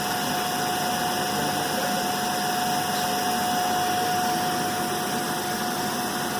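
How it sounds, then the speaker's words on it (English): Electric DC motor running loaded during a Hopkinson test, a loud, steady mechanical drone with a constant high whine, unbroken throughout and no one talking. "The motor is getting loaded."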